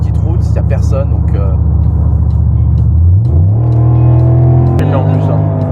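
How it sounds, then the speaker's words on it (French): A Cadillac Seville STS with a naturally aspirated 4.6-litre V8 rumbles loudly from the cabin on an empty country road, its deep engine note rising as the car accelerates and shifts, with speech faintly over it. "un V8 4 litres 6 Atmo, je peux vous dire que ça chantonne"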